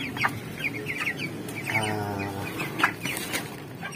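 Chickens cluck close by in a poultry pen, with several short calls and one longer drawn-out cluck among low background noise.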